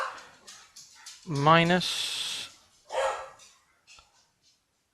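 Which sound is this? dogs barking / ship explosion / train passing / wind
dogs barking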